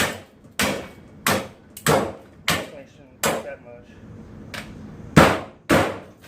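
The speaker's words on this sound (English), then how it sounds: "You take your hammer and you just beat the living shit out of it until it comes off." Loud, heavy hammer blows on a metal chain guard, about eight sharp strikes in an uneven rhythm, close by, with someone speaking briefly between them.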